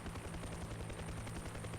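Helicopter flying in a video game mod, a steady, close thrumming of rotors with an even pulsing rhythm and a low engine hum, heard alone without talk.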